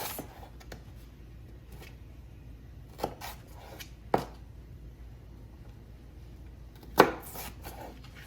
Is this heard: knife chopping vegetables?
yes